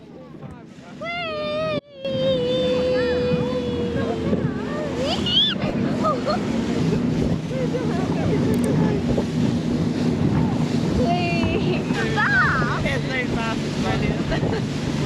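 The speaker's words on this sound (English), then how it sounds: "This was Lily's first trip on a boat" A boat's engine hums steadily under wind and splashing water off the coast of Wales, with voices talking over it throughout.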